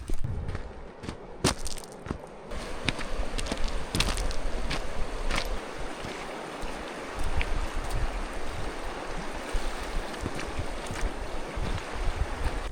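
Water splashes and gurgles as a cup is filled from a stream in grizzly country, with broadband outdoor water noise, a few sharp knocks and scuffs, and steady flow running throughout.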